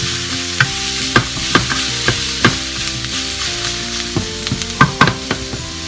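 Sliced peppers for rajas con huevos cooking down in a hot pan over medium heat, with a steady close sizzle broken by about a dozen sharp utensil scrapes and taps against the pan, no voices.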